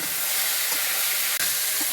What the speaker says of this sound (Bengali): তো আমি এখন দেবো স্বাদ মতন লবণ দিয়ে একটু ভেজে নেব